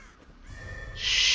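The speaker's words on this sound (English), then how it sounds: "The crow." A crow in Dead by Daylight calls with a harsh, drawn-out cry that swells into a loud, bright screech near the end, over low ambient game rumble.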